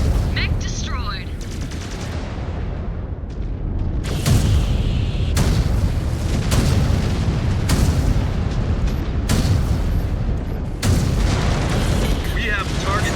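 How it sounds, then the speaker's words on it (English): A mech blows up in the MechWarrior 5: Clans video game, with loud, dense rumbling blasts and gunfire-like bursts that come in repeated booming waves across a constant wall of battle noise. "Mech destroyed."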